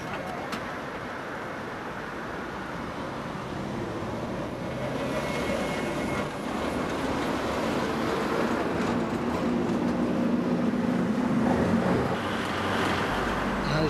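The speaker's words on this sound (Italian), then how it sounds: "dove confluiscono attraversando il ponte anche i tram delle linee 47, 48 e 49" Trams of lines 47, 48 and 49 cross a bridge in Budapest near the Gellért Baths, a steady rumbling roll of wheels on rails that swells slowly over about fourteen seconds, with a faint high squeal midway.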